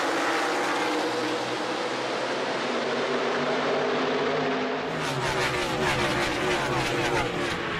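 NASCAR stock cars rolling off at the start of a stop-motion race, a loud, dense, continuous engine roar that shifts to a harsher, buzzier texture partway through, with no voices.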